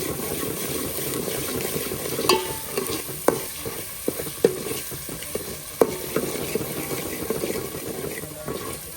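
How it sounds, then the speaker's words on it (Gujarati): Masala for crab biryani fries slowly over low heat in a pan. A soft sizzle runs under repeated scraping and clinking of a stirring spoon, with sharp taps at intervals. "આપણે હલાવે રાખવાનું આવી રીતે ધીમે ધીમે પકાવવા દઈએ ધીમા તાપે"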